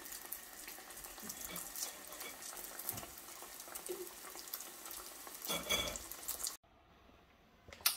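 Small beignets frying in a pan, a close bubbling, watery crackle with shifting intensity that swells briefly before cutting off into near silence, then a sudden clunk.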